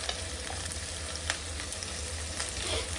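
Ground spices, chilli powder then coriander powder, sizzle in a hot pan of oil while a Bengali-style fish bhuna is cooked, giving a steady close crackle with a few sharper pops and no talk.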